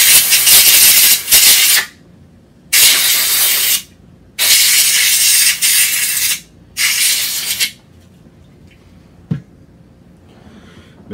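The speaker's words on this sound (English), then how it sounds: "Here we have some compressed air" Nearly empty can of compressed air used to clean Sig MPX gun parts: four loud, close hissing bursts of about one to two seconds each with short gaps, then near quiet with a single small click.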